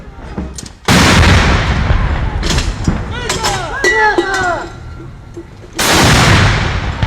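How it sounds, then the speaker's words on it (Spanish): Booming salute shots from 122 mm howitzer cannons at a Cuban ceremony, two loud blasts several seconds apart, with a band playing a war anthem and brass melody audible between them, outdoors. "Hay sincronía entre el himno de guerra y cada cañonazo de obús de 122 milímetros."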